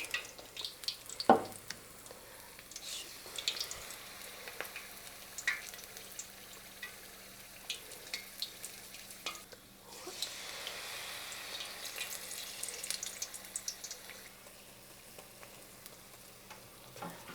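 Wild spring herbs frying as tempura in hot oil, a faint, steady crackle and sizzle with small pops, heard close in a quiet kitchen.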